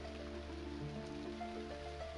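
Steady rain falls in the online role-playing game Everquest on the Project 1999 green server, a continuous even hiss with faint game tones and hum layered beneath, no talking.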